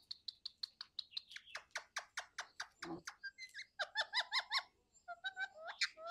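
A pet parrot calls in a rapid series of sharp, close chirps and squawks, some giggle-like, repeating almost without pause and sounding loud against a quiet background.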